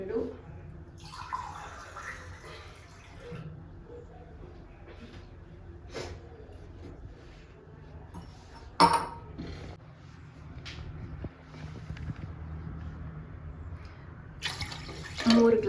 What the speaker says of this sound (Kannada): ಸೊ 1:2 ರೇಷಿಯೋಲ್ಲೇ ನೀರು ಹಾಕೋತಾ ಇದ್ದೀನಿ